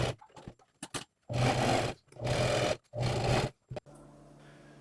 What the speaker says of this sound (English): So we're just going to sew as close to the edge as we can, just to finish off this piece.